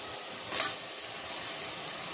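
Mutton pieces hit a pan of ginger-garlic paste for a Telangana-style mutton curry, a brief bright sizzle at the start settling into a steady hiss of frying throughout.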